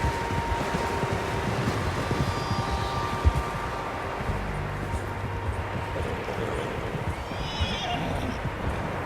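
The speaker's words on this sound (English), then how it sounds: "Horses, quite a few of them." Horses whinny and hooves clip-clop in Red Dead Redemption on PS4. Several horses are heard over a steady outdoor wind bed, with a neigh rising near the end and soft hoof steps underneath.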